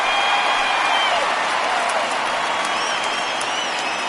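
Steady stadium crowd applause and light cheering in a baseball video game as a home crowd salutes the departing pitcher holding a shutout, a broad continuous roar with faint whistles.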